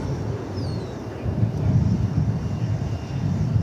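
A jet airliner roars steadily at DFW Airport, a broad rumbling engine wash that swells slightly midway, heard from a distance amid light wind.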